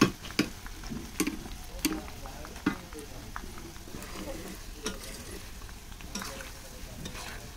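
Gram flour sev bhaja frying in hot oil, a soft steady sizzle with occasional stirring clinks and light scrapes, fairly quiet and close throughout.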